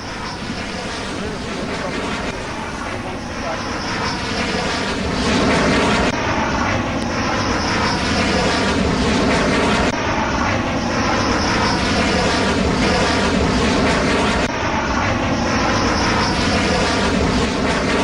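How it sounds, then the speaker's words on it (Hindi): A Rafale fighter jet lands at Ambala airbase, a loud sustained engine roar that swells and holds, close by, with a broadcast voice faintly underneath. "बिल्कुल करीब से ये राफेल विमान वहां पर उतरता हुआ दिखाई दे रहा है"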